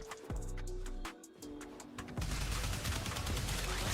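In the Warframe video game, the Incarnon Soma rifle fires in bursts of rapid automatic gunfire, then settles into a dense, sustained stream of shots over layered game sounds and music, moderately loud throughout.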